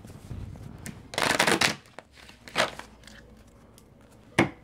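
A deck of tarot cards is shuffled in a few quick riffling bursts, close and crisp, with a final short snap against a quiet room.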